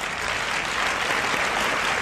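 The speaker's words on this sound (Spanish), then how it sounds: "Un aplauso de toda España." Studio audience applause on a 1976 Spanish television variety show, a steady dense clapping that fills the whole stretch at even loudness with no voices over it.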